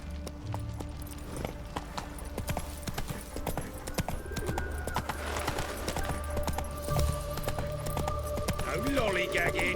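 Horse galloping in The Witcher 3, rapid rhythmic clip-clop hoofbeats running steadily throughout, close and loud, with a voice talking over them at times.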